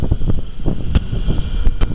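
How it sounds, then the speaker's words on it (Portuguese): Gusty wind buffets the microphone in short irregular bursts, loud and close, a low rumbling flutter that rises and falls with a few sharper thumps mixed in. "Olha lá o vento"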